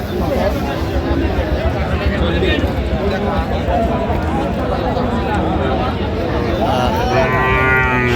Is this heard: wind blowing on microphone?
no